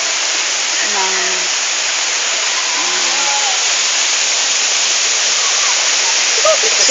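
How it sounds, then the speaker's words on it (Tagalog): The waterfall at Seagull Mountain resort gives off a loud, continuous roar of crashing water, heard nearby, with a few voices briefly speaking over it. "May falls area"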